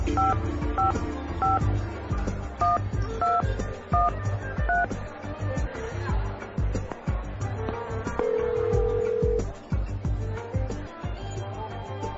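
A telephone is dialed at a petrol station, with a quick run of distinct key tones at the start, then ringing and line sounds over dense background noise and music.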